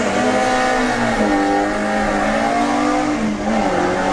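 A Volkswagen Beetle drag race car at a Bug Jam drag racing event accelerates hard down the strip, its loud, close engine roaring steadily with rising and shifting pitch throughout and no talking.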